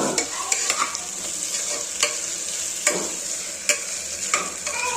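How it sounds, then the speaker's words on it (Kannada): Ginger garlic paste frying in oil while being stirred, a close steady sizzle punctuated by sharp regular scraping and clinking strokes of the spoon against the pan, no talking. "ಶುಂಠಿ ಬೆಳ್ಳುಳ್ಳಿ ಪೇಸ್ಟಿಂದು ಹಸಿ ವಾಸನೆ ಕ್ಲೀನಾಗಿ ಹೋಗೋ ತನಕನೂ ಫ್ರೈ ಮಾಡ್ಕೊಳ್ಳಿ"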